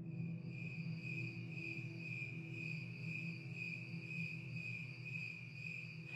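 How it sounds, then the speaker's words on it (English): A cricket chirps into the night at normal speed, a steady high trill repeating in rapid even pulses, close and clear over a quiet background, with no voices. "The first is the recording of the normal cricket singing into the night."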